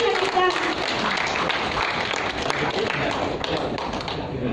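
An audience at a Tamil stand-up comedy show breaks into steady applause, a dense wash of hand clapping that holds throughout, with a voice speaking over it.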